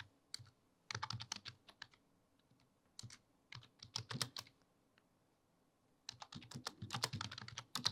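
Bursts of quick keystrokes on a computer keyboard as a ChatGPT prompt is typed, several clattering runs separated by short pauses, close and fairly quiet with no voices.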